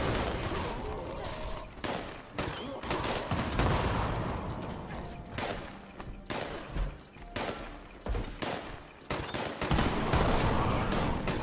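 Sustained gunfire in Fallout 76, with dense rapid bursts and heavy repeated shots in fast rhythm, loud and near and nearly continuous with brief gaps, no talking.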